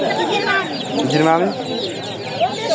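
Chickens cluck at a busy poultry market in Quva, Fergana region, the calls of broilers and roosters mixed with steady market chatter and people talking nearby.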